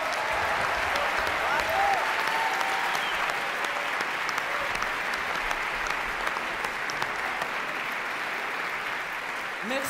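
Sustained audience applause fills an opera house at the finals of the Paris Opera Competition, a dense, steady wash of many hands clapping that holds at an even level for the whole stretch.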